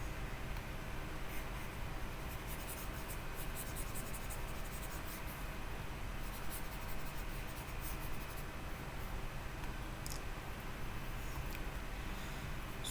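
Pen scratching steadily on paper or a tablet while writing out an explanation, faint and close over a hiss of background noise, in short continuous strokes with no talking.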